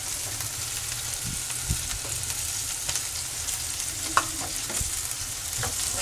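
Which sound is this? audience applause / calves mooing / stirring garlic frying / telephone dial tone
stirring garlic frying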